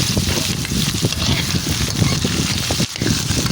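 Papaya stirred into sautéing onion and garlic in a pan for ginataang kalabasa at papaya, giving a dense, loud, continuous sizzle with soft stirring scrapes throughout.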